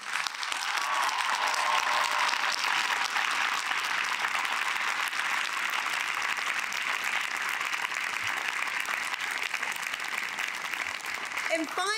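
An audience at a college ceremony applauds hard, a dense, sustained wash of clapping from a large crowd that holds steady and loud for the whole stretch.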